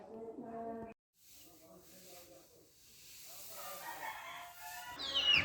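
Chickens clucking and a rooster crowing at a distance on a very cold winter morning, mixed with a person talking and soft hissing noise.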